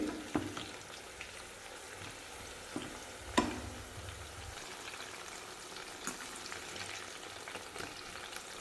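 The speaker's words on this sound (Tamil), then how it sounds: "எண்ணெயிலே முக்கால் வேக்காடு வெந்துடணுங்க கத்திரிக்காய்" Eggplant (brinjal) fries in hot oil with a soft, continuous sizzle, broken by a few sharp clacks as the pieces are stirred, fairly quiet and steady with no talk.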